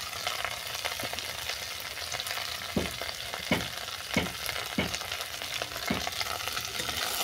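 Water spinach stalks fry in a pan with turmeric, chili powder and salt, giving a dense, continuous sizzle with repeated scraping strokes from stirring throughout.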